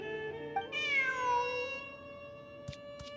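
A cat meows in a video game, once in a long, rising-then-falling cry over a steady electronic hum, followed by two short clicks.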